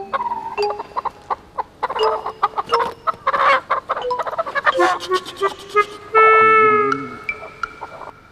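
Chickens cluck and squawk in agitated bursts, loud and close, joined near the end by a sustained car-horn-like toot, with voices talking in between.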